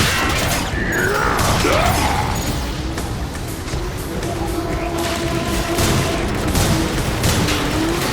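Sustained weapon fire in Transformers: War for Cybertron: a dense, continuous barrage of loud blasts mixed with whistling, sweeping energy tones and metallic crashes, heavy throughout.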